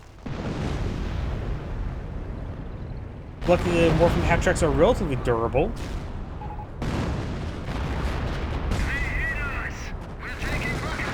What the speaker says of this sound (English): Looks like the priests are now counter barraging. A lot of boom booms this game.